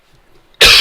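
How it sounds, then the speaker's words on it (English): A single sharp cough bursts out close and loud after a moment of near silence, from a person who is a little sick. "Excuse me for coughing, because I'm"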